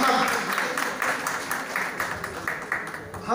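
A conference hall crowd at an SC, ST, OBC and minorities doctors' and employees' association event applauds to welcome a minister, with steady dense clapping mixed with voices talking throughout.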